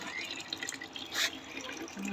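Water runs from a tap into a bucket on a rooftop garden in a steady, close splashing stream, with a slight swell of gushing partway through and no speech.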